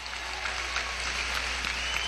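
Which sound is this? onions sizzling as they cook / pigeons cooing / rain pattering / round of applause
round of applause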